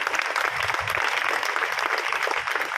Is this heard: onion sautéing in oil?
no